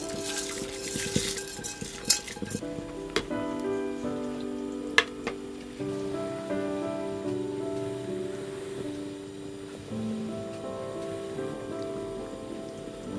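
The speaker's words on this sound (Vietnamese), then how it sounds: "Bây giờ thì mình cho gạo đã xào vào." Stir-fried rice pours into a pot of beef congee with beef tail and ribs, a brief rushing patter at first, then a few sharp clinks against the pot over a quiet simmer.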